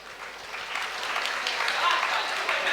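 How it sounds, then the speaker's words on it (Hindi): Audience clapping at a Jain religious discourse during Paryushan, a steady crowd applause sustained across the moment with a faint voice underneath. "अब देखो तुम लोग ताली बजा रहे हो।"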